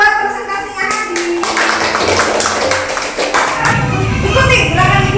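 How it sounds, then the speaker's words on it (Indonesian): A school class claps together in quick scattered applause after a presentation, mixed with children's voices and chatter throughout. "Kita kasih tepuk tangan buat presentasinya Hadi."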